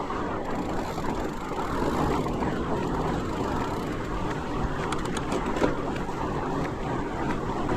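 Gusty wind on a chilly day in Topsham, Maine, roaring steadily and loudly over a broad band during a fat bike trail ride, with no voices.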